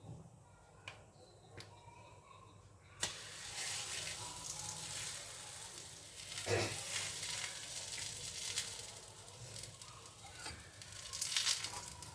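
Oil poured into a kadai pan for chapati begins to heat and sizzle, a soft steady crackle rising after a sharp clink, with occasional louder spits and stirring scrapes, fairly quiet and close.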